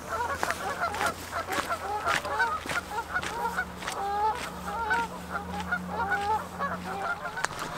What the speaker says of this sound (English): that means that the geese are still here. They're buggered off to wherever they go to in the summer, and they really are noisy little sods.